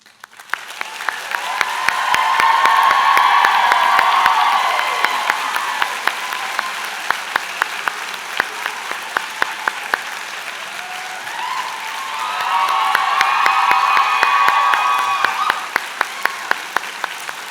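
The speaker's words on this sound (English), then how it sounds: "I know this will get a great round of applause, let's recognize all of our faculty and staff" Sustained audience applause at a college convocation, honouring faculty and staff; two swells of clapping, the second starting around twelve seconds, with steady lighter clapping between and a faint voice underneath.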